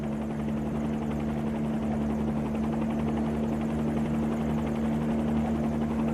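Bell 47 helicopter in a flight simulator game, a steady close rotor thump and engine drone with a constant buzzing hum, running continuously without pause or talk.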